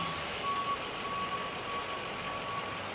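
Backup alarm on a plow truck with a sander, beeping steadily in a regular pulse of tones over a loud, continuous engine and road noise during a storm.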